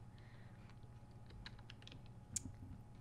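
Keystrokes on a computer keyboard during a spreadsheet or analytics task, scattered quiet taps with one sharper click near the end over a low steady hum.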